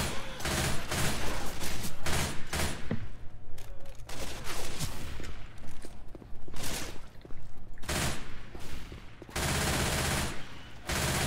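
Rapid bursts of automatic gunfire from a bullet-spraying gun in the zombie shooter Left 4 Dead 2, hotel chapter. The bursts are loud and close, with brief pauses between volleys.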